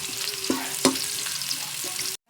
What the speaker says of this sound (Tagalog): Isunod na ang sibuyas para mas lalo gumango ang ating ginisa.